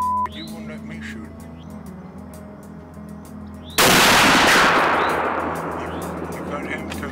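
During a North Carolina hog hunt, a rifle fires at wild boar in one very loud, close blast that rings and slowly fades outdoors. A few seconds of quieter rustling and background noise come before the shot.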